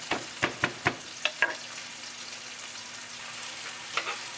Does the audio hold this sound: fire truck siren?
no